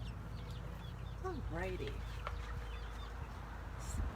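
Backyard chickens clucking out in the sun, a few short calls near the middle of the clip over steady outdoor ambience, with a person speaking briefly.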